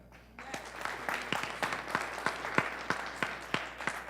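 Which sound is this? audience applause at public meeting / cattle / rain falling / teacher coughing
audience applause at public meeting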